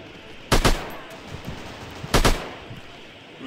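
Two short bursts of rapid gunfire, about a second and a half apart, ring out in the online shooter game Online Strike, each a quick cluster of sharp shots over quiet game ambience.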